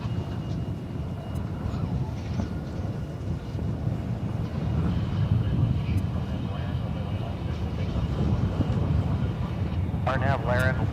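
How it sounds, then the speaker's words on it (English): An American Airlines Dreamliner jet bound for Tokyo gets ready for takeoff at Dallas Fort Worth airport. Its engines give a steady, distant roar with wind noise across the whole stretch, and a voice talks over it near the end. "This again is the American Dreamliner, which is getting ready to take off for Tokyo."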